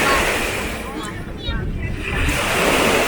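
Sea waves wash steadily at a beach in Akyarlar, Bodrum, making a broad, continuous hiss and rumble with some wind noise, swelling and easing slightly as the surf rolls in.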